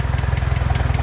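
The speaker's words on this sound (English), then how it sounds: "how you have the machine idling right now" Engine of an antique Hobart welding machine idling, a steady low rhythmic chugging with even pulses throughout, close and alone.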